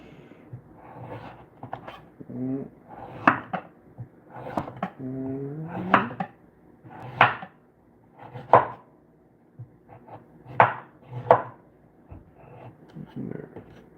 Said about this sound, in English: So we're just going to cut them all off with our knife.